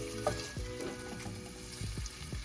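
Vegetables stirred and scraped around a sizzling skillet while cooking for steak and cheese sliders; a steady close fry with clattering utensil knocks and shuffling, no talk.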